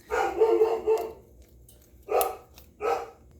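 A dog barks in a burst of several quick barks, then two more single barks after a pause, fairly close and loud.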